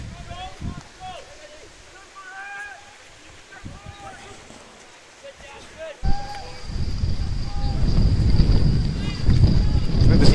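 Strong wind gusting across an outdoor hockey pitch during a men's match, rising from about six seconds into a loud, steady roar after quieter stretches with birdsong and distant voices.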